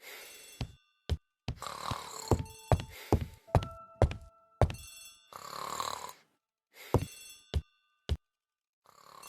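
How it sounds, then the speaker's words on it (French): A telephone rings in a hall with bright bell tones, interspersed with sharp thumps and other busy sounds in a drama scene. "Le téléphone sonne dans le hall."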